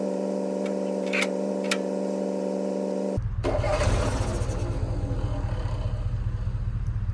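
A cold engine on a vehicle parked in deep snow runs through a steady, droning starter crank for about three seconds, then fires and settles into a loud, even idle that continues to the end.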